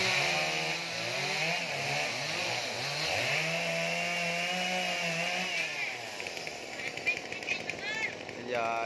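A chainsaw cuts tree branches during risky tree felling near power lines, running steadily with a wavering engine pitch throughout, close and loud, while someone talks over it.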